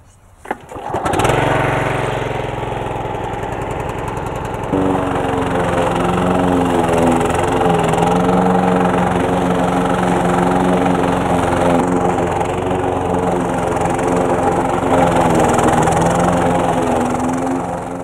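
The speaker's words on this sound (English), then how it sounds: "Mowing the cover crop first will make it a lot easier to incorporate into the soil." A lawn mower fitted with a mulch plug-in cuts through a cover crop, starting up and then running steadily and loudly at close range for the whole stretch, with no talk over it.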